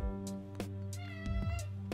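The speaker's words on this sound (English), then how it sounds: "here comes the cat" A cat named Lupe meowing nearby: a few drawn-out, tonal meows with rising and falling pitch, fairly quiet and close, with no talk over them.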